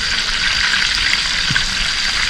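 Chicken wings sizzle and crackle steadily as they deep-fry in hot oil, a dense hiss that never lets up and has no talking over it.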